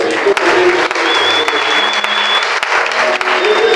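A church congregation claps during a Sunday worship service, the applause dense and sustained for the whole stretch with a faint murmur of voices running underneath.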